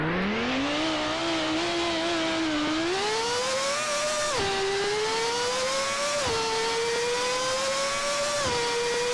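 An F1 car in the Roblox game Car Dealership Tycoon revs with a loud, continuous engine whine that climbs steadily in pitch, dropping sharply at several gear changes before rising again.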